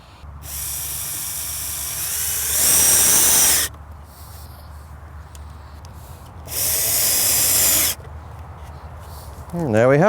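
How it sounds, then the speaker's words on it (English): Two bursts of a power drill whirring at high speed as it drives screws into the wood of a garden planter bench, each a second or so, near and loud, with quieter handling noise between. "taking 2 more screws and our drill"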